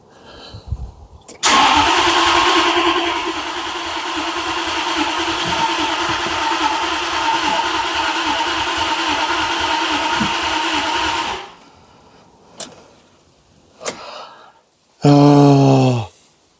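A Jaguar XKR X100 engine cranks loudly for about ten seconds on a start attempt without catching, followed by a few scattered clunks and a short, loud burst near the end.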